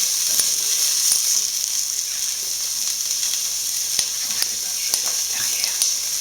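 Onions sauté gently in a pan as the base for mussels, giving a steady bright sizzle throughout with occasional clicks of stirring, close and even.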